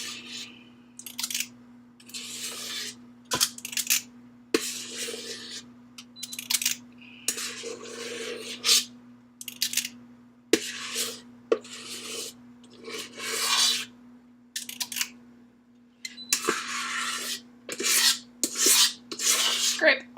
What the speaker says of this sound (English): Scrape all that out of the bowl.